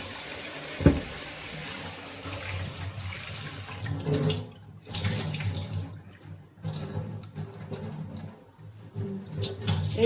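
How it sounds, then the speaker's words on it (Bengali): Grapes washed under a running tap, rushing water splashing into a sink with shifting, uneven flow and a sharp knock near the start, fairly close and without talk. "আর এখানে নিয়ে নিয়েছি কিছুটা আঙ্গুর। তো চলুন এগুলোকে ধুয়ে নেব।"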